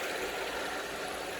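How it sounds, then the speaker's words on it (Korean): A Kia K7 GDI engine idles roughly with a misfire, giving a steady, close, continuous engine rumble with no talking. "자 이제 시동이 걸려 있는 상태입니다. 굉장히 이제 많이 떨고 있죠."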